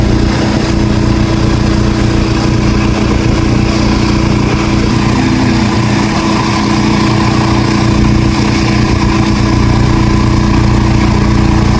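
A generator runs continuously and loudly, close by, powering welding work by army soldiers on a bridge; its steady engine drone stays constant without a break and no voices are heard.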